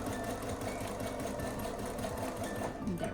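A sewing machine runs steadily, stitching partial seams across a pieced quilt top, its needle clattering in a quick, even whir close by with no one talking.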